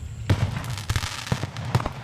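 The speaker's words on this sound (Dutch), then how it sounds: "dit is dan weer een crackling mine met, 2 knalletjes erbij" A crackling mine firework goes off in a dense burst of sharp pops and crackles, with two heavier bangs standing out. It is loud and close, with no voices.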